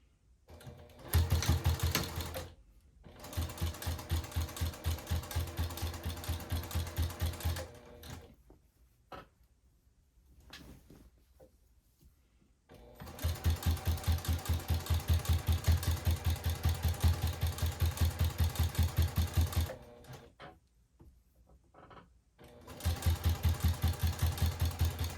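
A sewing machine runs in steady bursts, stitching the seam of a soft minky blanket, with several long stitching runs separated by short pauses; close and fairly loud, no talk.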